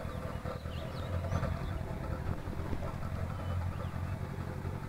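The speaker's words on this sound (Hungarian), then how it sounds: "De várjál, ennek Trabi hangja van" A Trabant engine idles in the truck game Spintires MudRunner, a steady low chugging drone running throughout at moderate level, with a faint voice speaking underneath.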